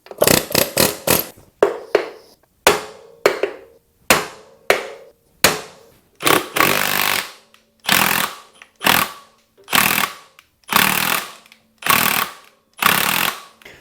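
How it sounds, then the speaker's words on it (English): An air hammer fires in repeated loud rattling bursts on a vintage KDX 450 dirt bike's brake hub, each lasting under a second with short pauses between, close and harsh. "Let's try to hit it with the air hammer."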